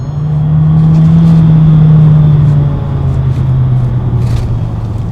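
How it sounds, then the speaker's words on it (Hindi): A Skoda Slavia Monte Carlo sedan's exhaust note, a steady loud engine drone that holds a constant pitch for several seconds, then drops slightly and continues, with no talking. "और एग्जॉस्ट नोट भी आप देखो काफ़ी अच्छा सुनाई देता है"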